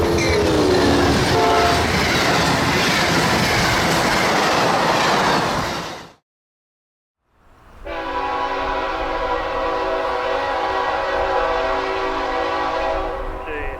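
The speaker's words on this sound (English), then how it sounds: "CSXT 3353 southbound. Ocala, Florida on the ex-Seaboard airline main. First train of the morning," A CSXT freight train, locomotive 3353, runs southbound on the ex-Seaboard Air Line main at Ocala, Florida. It roars loud and close, goes quiet for a moment, then sounds its horn in a long steady blast over the rumble.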